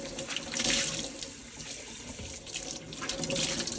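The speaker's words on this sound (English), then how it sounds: "Wring it out really well, and then just lay it out to dry for a couple days." Water splashes and streams as a homemade luffa sponge is wrung out, close and continuous, with louder surges at the start and end.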